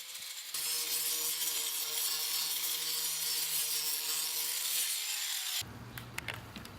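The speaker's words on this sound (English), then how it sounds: "first I'm gonna use grinder to grind out all the bubbling rust around the hole" An angle grinder grinds bubbling rust around a hole in a car body: a steady, harsh abrasive grinding drones continuously at close range, with a whining motor tone, then cuts off into lighter scraping near the end.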